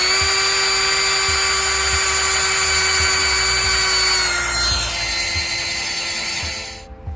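Power drill running continuously, close and loud, as it drives 100mm coach screws through a bracket in a Ford Transit campervan conversion; the steady motor whine drops in pitch partway as the screw tightens, then cuts off near the end.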